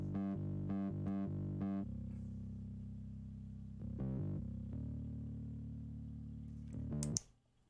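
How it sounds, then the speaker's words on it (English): Bass guitar run through a Diro Audio distortion wave shaper plugin: four short, rapid gritty notes, then a long sustained distorted tone, a brief second burst and a final sustain that cuts off sharply. "so you can draw your curve how you want to have your bass distorted"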